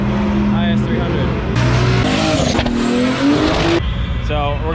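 A Lexus IS300 drag car at a drag strip revs hard in rising and falling bursts, its engine note climbing sharply between gear changes, loud and close, with voices talking over the mechanical roar.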